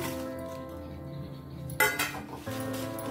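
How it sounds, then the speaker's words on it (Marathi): Dried red chillies being dry roasted in a pan, with a low hum and metallic clinks and scrapes of utensil against pan, including a sharp cluster of rattling knocks midway. "आता हांव सुकी मिरची भाजून घेता।"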